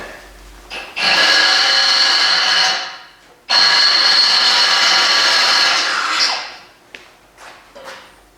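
A power drill bores pilot holes out to 3/8 inch on a custom fabricated generator LED light pole, making two loud, steady, high-pitched whirring bursts of about two and three seconds, each winding down, followed by a few faint knocks.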